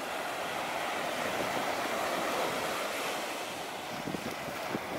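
Ocean waves wash steadily onto a shallow, swimmable beach at Kalpitiya, Sri Lanka, where the shore is strewn with broken coral and shells; a continuous broadband surf roar with some wind noise, no voices.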